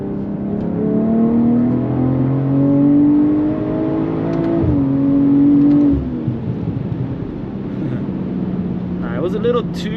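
BMW M340i engine pulling hard in third gear from a roll, a rising rev heard from inside the car that drops at a shift and climbs again, with popping backfires and a voice talking over it.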